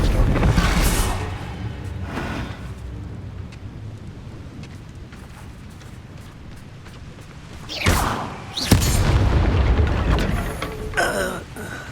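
A Bombarda spell goes off in Hogwarts Legacy as a sudden loud blast near the eight-second mark, with a heavy booming body and a rumbling tail, after a stretch of muffled combat noise.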